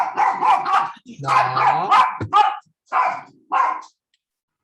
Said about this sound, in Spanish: el perro generalmente se pone a ladrar